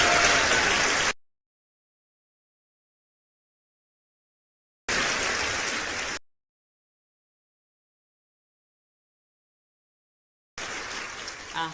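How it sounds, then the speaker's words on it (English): A summit audience gives a round of applause for their tour guide in three separate bursts of dense, even clapping, each broken off abruptly by silence. "So that is the round of applause for you, our wonderful tour guide"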